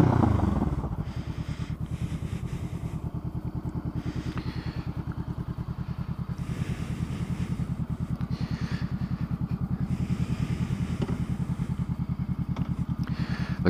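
A 2014 Honda CBR500R motorcycle with a Coffmans aftermarket exhaust idles nearby in a steady, rapid low-pitched burble, with a brief louder rev at the very start and no voices.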